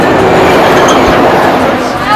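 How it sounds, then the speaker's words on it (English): A little tourist train in Vienne, France, rolls along beside the Rhône with a steady rumble and faint clatter, heard loud and close from on board. "we're going to get ready to take our trip on the little train"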